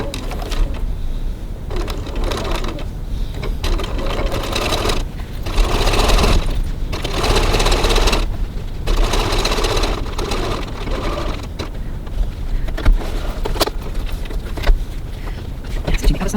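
A sewing machine topstitches along a cross-body bag seam, running in steady bursts with brief pauses between runs. It is close and fairly loud.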